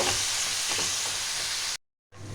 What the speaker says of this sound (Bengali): এবার মশলাগুলো ভালো করে আমি কষিয়ে নেব